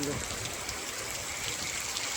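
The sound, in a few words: heavy rain and flowing water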